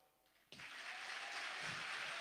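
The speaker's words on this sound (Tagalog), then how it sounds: "Palakpakan po natin na malakas sa palakpakan ating dakilang Diyos." Applause from a church congregation at an anniversary service: the hall is quiet at first, then clapping breaks out suddenly and builds into a steady, fairly close patter that continues to the end.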